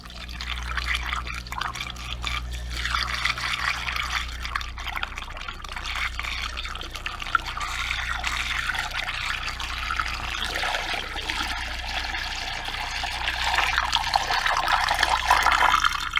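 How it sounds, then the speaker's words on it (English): Beer wort for a Mr. Beer stout is poured steadily over hop sacks in a fermenting keg, a continuous close splashing and trickling of liquid that builds slightly toward the end. "pour the wort on top"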